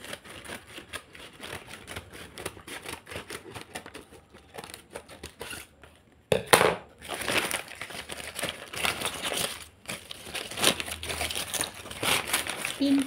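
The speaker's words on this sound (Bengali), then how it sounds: "এসে গেছে, এবার আনপ্যাক করছি।" A crinkly plastic parcel of ordered T-shirts is handled and torn open, with papery crackles and rustles running throughout, a brief pause, then louder crinkling; a person talks at times.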